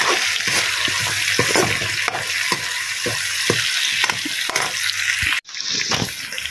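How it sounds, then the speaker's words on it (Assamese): Vegetables with a few bay leaves frying and being stirred in a pan, giving a steady close sizzle broken by repeated scraping stirs, followed by a brief gap near the end. "ৰঙাচুৱাকৈ ভাজি লওঁ"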